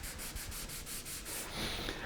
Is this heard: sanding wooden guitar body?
yes